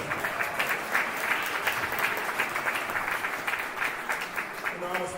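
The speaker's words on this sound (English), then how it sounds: "let's give him another round of applause." An audience at a live event applauds in a steady, dense wash of clapping that holds for the whole stretch, fairly close and even, with a voice faintly audible under the applause.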